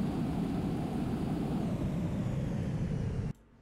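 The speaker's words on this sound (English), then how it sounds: "We have successfully landed the Airbus A380 on a bridge." A steady broadband engine roar from an Airbus A380 landing in a flight simulator game, loud and constant for about three seconds before cutting off abruptly to near silence.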